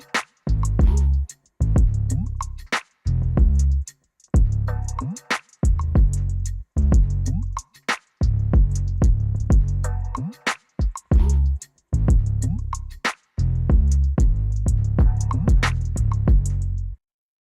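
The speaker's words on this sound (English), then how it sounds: "And then I came with the 808 after that once I had the drums laid down." Deep booming 808 bass notes, some sliding in pitch, lock in with crisp kicks, snares and hats in a hip-hop beat, loud and steady with short rhythmic pauses, no talking.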